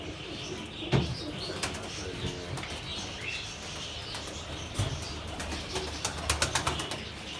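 Tumbler pigeons and their young being fed: soft cooing and chirps over a busy room tone, with a few sudden wing flaps and clatters, one near the start and a quick cluster toward the end.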